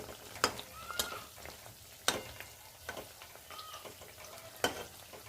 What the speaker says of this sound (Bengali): হালকা আঁচে গজাগুলো ভাজতে হবে